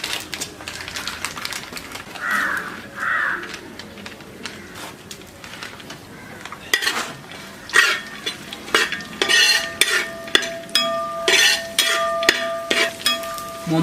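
Raisins tossed into a pan of fried cashews for sadya-style vermicelli payasam, with a spoon stirring and scraping against the metal pan in quick, busy clinks and taps that grow denser and louder toward the end.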